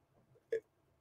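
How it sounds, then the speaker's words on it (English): A single short burp, brief and close, a quick throaty gulp in an otherwise quiet room. "excuse moi, got a burp there"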